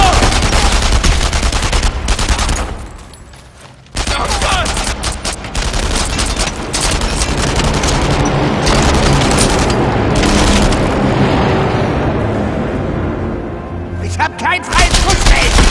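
Dense bursts of rapid gunfire rattle through a World War II shooter battle in Enemy Front, loud and nearly continuous with brief lulls, automatic weapons and occasional booms layered under game voices.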